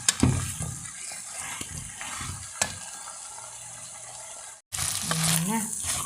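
Spaghetti with spinach sizzles and fries softly in a pan while being stirred, with scraping clicks and a steady low hiss, a brief dropout near the end, then the frying returns slightly louder.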